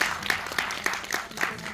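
Audience at a Korean film festival in Paris applauds, a steady bright wash of clapping with sharper accents throughout, fairly close and without talk.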